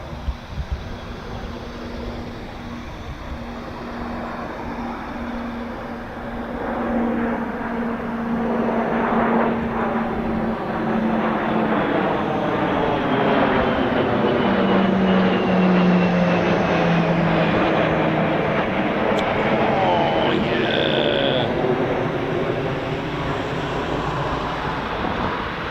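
RAF propeller aircraft in a VE Day flypast formation rehearsal drone overhead, the engine roar building and swelling as they pass, with wind buffeting the microphone and a brief high tone near the end.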